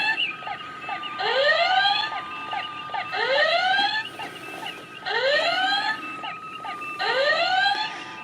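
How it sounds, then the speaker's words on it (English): A PLAYMOBIL USS Enterprise toy plays its red alert sound effect, a series of rising electronic whoops repeated four times at an even pace against a steady electronic hum, fairly loud and with no talk. "Got a red button, which is red alert."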